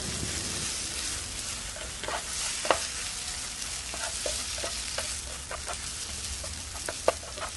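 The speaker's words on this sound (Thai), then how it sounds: "จากนั้นก็ผัดต่อค่ะขั้นตอนนี้เราก็ผัดไปจนกว่ากุ้งจะสุกค่ะ" Minced shrimp stir-frying in a hot pan for a Thai shrimp and stink bean dish, a steady close sizzle with intermittent scraping clicks of a spatula stirring, no talk.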